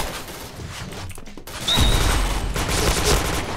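A Famas G2 Komando rifle in the shooter game Point Blank fires a quick burst of gunshots following a short quiet moment, loud and close against steady game background noise.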